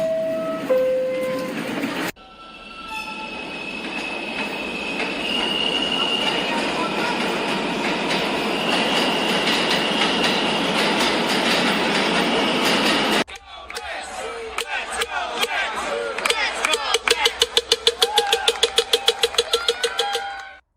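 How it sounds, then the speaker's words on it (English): A Willets Point bound 7 local New York subway train running, a steady loud rumble and whine of the car in motion that breaks off into clattering, rhythmic wheel clicks over the rail joints near the end. "This is a Mets Willets Point bound 7 local train."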